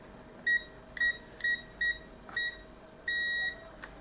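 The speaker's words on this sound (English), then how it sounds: "Set our meter to continuity." A multimeter set to continuity testing on a MacBook Pro 820-3332 logic board gives short, clean beeps at irregular intervals, then one longer sustained tone. The beeps are crisp and close against a quiet background hum, with no voices.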